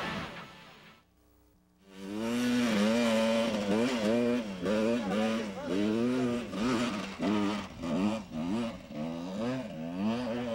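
A motorcycle engine labors up a steep hill climb in second gear, revving in a wavering, pulsing rhythm after a brief lull, loud and close, with a voice partly mixed in.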